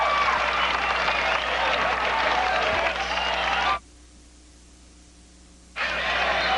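Crowd at a high school basketball game roaring and applauding in a loud, dense wash that cuts off abruptly for a couple of seconds, then resumes just as loudly.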